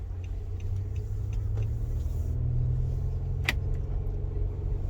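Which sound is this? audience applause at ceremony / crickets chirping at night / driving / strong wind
driving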